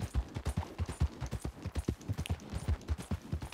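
Steady clip-clop of horse hooves while riding cross-country in Red Dead Redemption 2, a brisk, even rhythm of hoofbeats, close and continuous with no talk.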